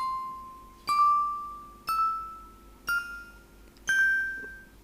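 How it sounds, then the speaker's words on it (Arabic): Bell sound effect from a sound effects pack: four clear, bright bell dings about a second apart, each ringing out and fading before the next, loud and alone with no talk. "ندخل مثلا على صوت الجرس اللي هو بيلز"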